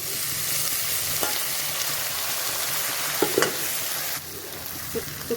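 Finely chopped capsicum and tomato frying in a pan for veg manchurian, a steady soft sizzle with a few brief clattering stirs of a spoon, near and moderately loud, no talking.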